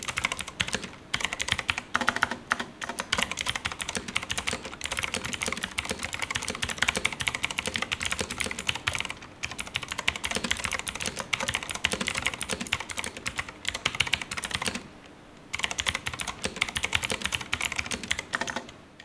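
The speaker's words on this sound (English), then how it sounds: "here is a very quick sound test of the BlackWidow V3 Mini with its green switches" Fast, continuous clacking from a Razer BlackWidow V3 Mini keyboard with green switches, keys struck in dense bursts with a couple of short pauses, heard close and alone.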